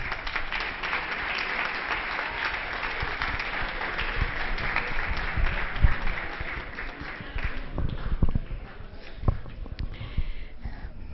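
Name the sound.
audience applause welcoming the speaker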